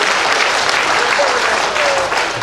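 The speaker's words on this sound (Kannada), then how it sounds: "ಚಪ್ಪಾಳೆಯ ಶಬ್ದ ಬೇಕು." Steady, loud applause from the audience at a Congress block presidents' installation ceremony, continuous dense clapping throughout with a faint murmur of voices.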